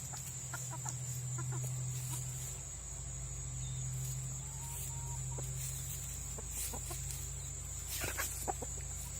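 Soft clucks and low murmurs from chickens in the background, steady insect chirring running throughout, no talking.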